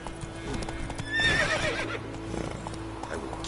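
Roach the horse trots in The Witcher game, with steady hoof clip-clops and a brief whinny partway through, close and moderately loud over low ambient game sound.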